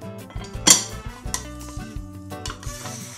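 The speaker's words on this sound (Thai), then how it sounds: "แล้วก็จะ กลับไข่โดยใช้จานนะฮะ" A pork omelette cooks in a small pan and is flipped using a plate, with a sharp clink of dish against pan, then light scraping, clattering and a soft sizzle in an uneven rhythm, close and with no talk.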